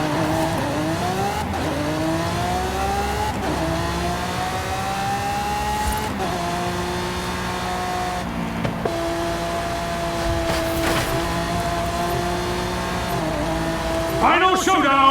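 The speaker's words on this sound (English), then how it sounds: "the Lamborghini has a slow acceleration rate" A Lamborghini Centenario in a racing video game builds speed with a steady engine drone, its tone climbing through several gear changes and rising again toward the end, with no pauses.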